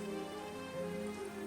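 Rain falling in a misty forest in Halo Infinite's Forge mode, a steady, soft hiss of drops with a low tonal ambient hum underneath, faint and unbroken with no talk.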